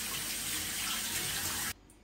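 Wheat and dried beans are rinsed under a running kitchen tap, a close, steady rush of water that cuts off abruptly near the end.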